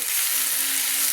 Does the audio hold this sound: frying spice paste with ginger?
yes